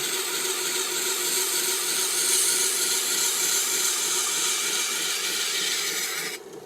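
A Vevor 1x30 belt grinder sharpens a knife, giving a steady, bright abrasive hiss over the motor's hum that holds evenly near the listener, then thins out abruptly at the end as the blade lifts away.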